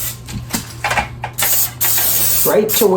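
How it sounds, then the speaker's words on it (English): A can of cooking spray hisses into a pan in two bursts, one short and one longer, after some clattering and handling noises. A voice is briefly heard. "I should really spray that outside"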